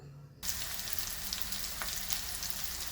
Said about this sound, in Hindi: ये देखिए ये लेडी फिंगर्स ऑलमोस्ट फ्राई हो गई हैं।